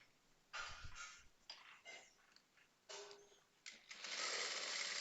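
Short bursts of a sewing machine stitching a blouse side joint, several runs of rapid mechanical whirring separated by pauses, the last burst longer and steadier, with no talk.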